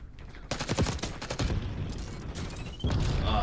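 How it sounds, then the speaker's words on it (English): In a video game, a loud impact grenade blast goes off amid a dense burst of rapid gunfire, with a second heavy hit near the end. "Sending impact grenade."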